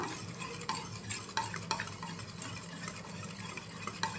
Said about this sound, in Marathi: छान आपल्याला फिरवून घ्यायचं आहे 1-2 मिनटं